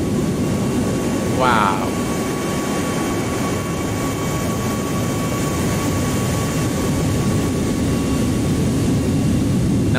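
An airliner in the AirportSim game rolls down the runway for takeoff with a loud, steady low jet-engine roar throughout, and a voice briefly exclaims near the start.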